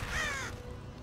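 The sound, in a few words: crow cawing in the South Park video game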